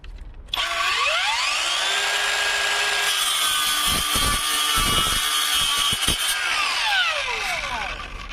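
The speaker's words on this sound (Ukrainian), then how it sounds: "Почнемо тестування з 18-мм ДСП. Пробуємо." A Ronix 8902 brushless circular saw spins up and rips through 18 mm chipboard, its high whine holding steady through a long loud cut before winding down, with no talking.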